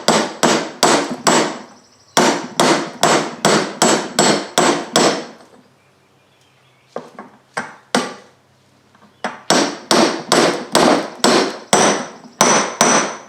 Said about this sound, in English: So I'm just going to tap this one in.